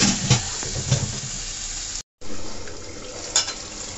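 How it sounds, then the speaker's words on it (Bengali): Mutton and potatoes for Bengali mutton kosha are stirred and fried in a pot, giving a steady sizzle with a few scraping knocks of the spoon and a brief dropout partway through. "এটাকে এখন কষাতে হবে ভালো মতো।"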